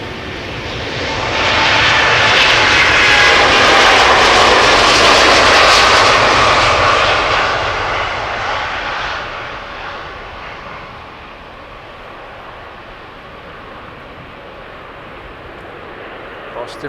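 KLM airliner taking off at Amsterdam Schiphol Airport, a loud roaring engine swell that peaks then slowly fades as the plane climbs away, with a voice talking over it.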